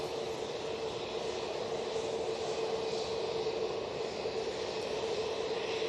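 SAS airliner in old livery taxiing onto active runway 23 left at Manchester Airport, a steady distant jet engine roar with broadband hiss holding evenly throughout, no voices.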